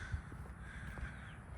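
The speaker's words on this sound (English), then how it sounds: "Bird in that there tree." A crow caws from a tree near a house, faint and distant over a low steady outdoor rumble.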